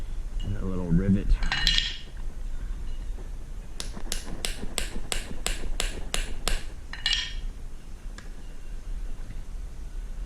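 Small metal tool tapping a boat carpet snap rivet into place, a quick run of about ten sharp, evenly spaced metallic taps after a brief clatter, close and crisp with no speech.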